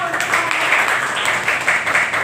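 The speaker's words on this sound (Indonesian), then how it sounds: "Beri tepuk tangan." A school physics class clapping hands together in a classroom after a group presentation on Hooke's law, a brief, dense burst of close applause.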